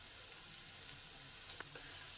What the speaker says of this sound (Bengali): আদাটাকেও ভালো করে পেঁয়াজের সঙ্গে ভেজে নেব।